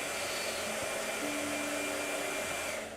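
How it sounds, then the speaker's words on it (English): A blow dryer runs steadily and loud at close range for the whole stretch, a constant airy whir with a faint tonal hum, used while painting a letter P. "It's just a whole lot of blow dryer going on."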